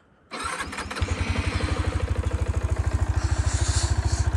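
A motorbike on a cold high-altitude route to Adi Kailash cranks and fires up, its engine catching and settling into a steady, loud, throbbing idle with even rhythmic pulses.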